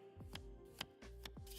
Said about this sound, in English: Shuffling time.